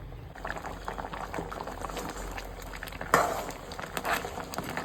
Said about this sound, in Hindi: यहाँ पर इसे जो है ना अच्छे से उबाल आ चुका है